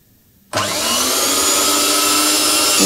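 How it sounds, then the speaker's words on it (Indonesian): After a moment of silence, an electric mixer switches on at low speed beating flour into pukis cake batter, then holds a close, steady, whirring motor drone to the end. "di tahap ini kita mixer dengan kecepatan rendah, asal tercampur rata aja"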